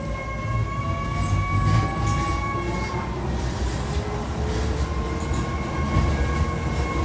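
A train rumbles steadily along the tracks, with a low rolling roar and faint high tonal whines throughout.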